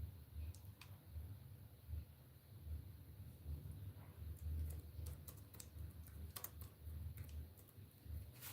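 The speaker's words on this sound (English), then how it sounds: "let me type the question" Quiet typing on a computer keyboard, a steady run of soft key clicks with brief flurries, heard close over a low background hum without speech.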